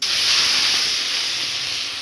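Ground onion paste hits hot mustard oil in a kadai with a loud, steady sizzling hiss that fades slightly over two seconds.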